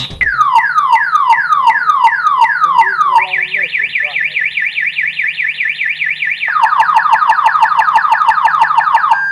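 An electronic alarm wails loudly and continuously, cycling through repeated descending sweeps, then a fast warbling tone, then a lower rapid siren pattern, close and dominant throughout.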